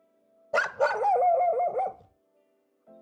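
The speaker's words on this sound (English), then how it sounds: "He always barks like that" A dog barks twice in quick succession, then lets out a longer, wavering howl-like bark, close and loud, followed by a brief faint yip at the end.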